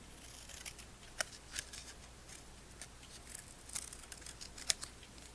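Scissors snip waterslide decal paper for a 1/64 NASCAR model, with a few sharp, quiet cuts and soft paper crinkles at irregular intervals in an otherwise hushed room.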